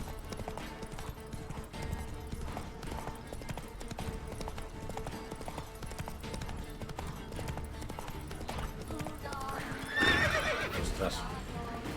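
In The Witcher 3, the horse Roach trots with steady hoof clip-clops and gives a loud neigh near the end, while someone talks over the game sounds.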